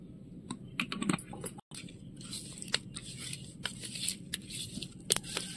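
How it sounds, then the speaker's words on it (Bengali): Ginger being cut with a knife on a board for Ilish fish pulao, a run of quick, light, irregular chopping taps up close, with a soft clatter underneath and one brief cut-out partway through. "আর আমি এদিকে আদাটা কেটে নিচ্ছি"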